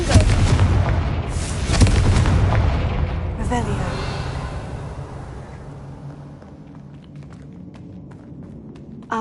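Loud fiery blasts from the Confringo explosive spell in Hogwarts Legacy, a heavy boom and rumble in the first few seconds that then decays into quieter game ambience, with a voice heard faintly.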